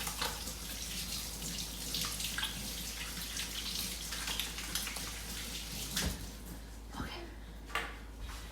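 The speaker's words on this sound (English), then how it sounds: "now I'm gonna wash my hands" Water runs steadily from a kitchen tap while hands are washed under it, a continuous close splashing hiss with a few small knocks and splashes near the end.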